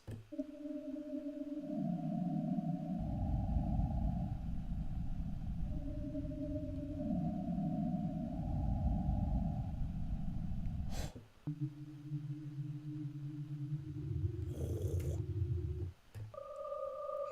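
Bulldozer Pulse preset on the Triumph Audio Short Wave synth plays loud, dark sustained tones stepping between low pitched notes, a brief pause near eleven seconds, then brighter layered notes resume with a soft noisy burst.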